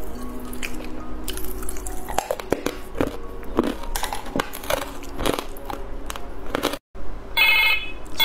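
A telephone rings briefly near the end, after a long stretch of close, crunchy eating sounds from a Chinese food mukbang.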